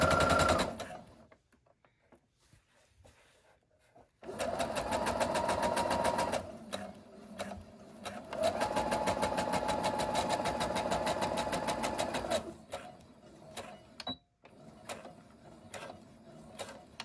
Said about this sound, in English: it's time to sew the two accent pieces together